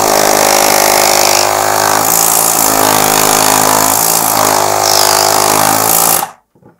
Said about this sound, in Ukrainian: компресор повинен докачати до 2 бар атмосфер